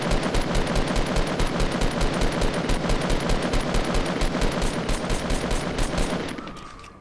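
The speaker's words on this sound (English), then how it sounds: "Trying to shoot the guy down." Rapid automatic gunfire in Fortnite Battle Royale, a loud, fast, even burst of shots repeating for about six seconds before cutting off and fading into quiet.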